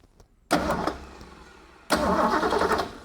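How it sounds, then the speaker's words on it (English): A 347 stroker V8 engine cranks on the starter in two short bursts, a whirring, chugging grind with a pause of quieter hum between them. "I'm gonna bump it over and just make sure that I don't have any weird starter noises going on."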